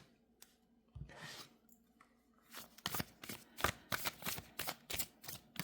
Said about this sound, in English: let's go ahead and pre-shuffle some oracle cards for you.